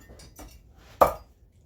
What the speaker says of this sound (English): chopping up this bok choy